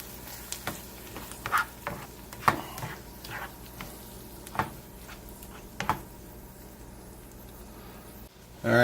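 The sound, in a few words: eggs frying in a pan for Tex Mex migas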